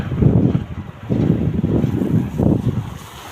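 Strong gale and blizzard wind in snowy Maine roars in heavy gusting surges close to the microphone, buffeting it steadily with brief lulls between blasts.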